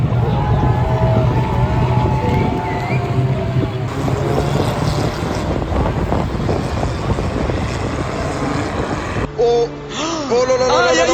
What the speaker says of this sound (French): Et Yann, ça va démarrer les 2 premiers tours de chauffe.